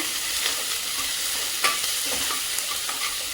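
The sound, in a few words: tempering with garlic, ginger and chilli sizzling for saag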